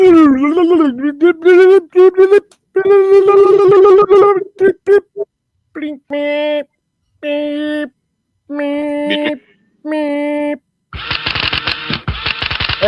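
A voice imitates an adding machine, a run of rising chirps followed by a series of clipped, even-spaced tones and a final burst of ratcheting noise, loud and close.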